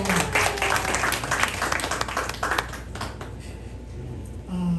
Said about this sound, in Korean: 미스터 라모라 오셨는데 박수 한번 보내주십시오